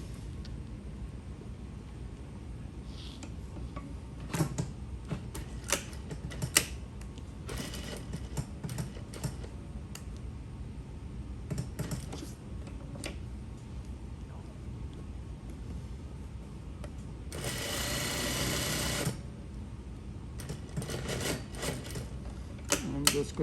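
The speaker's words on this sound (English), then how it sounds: "I'm just going to slide this down and top stitch it all the way up." A sewing machine top stitches a lap zipper in short, close, intermittent stitching bursts, with one longer steady run near the end.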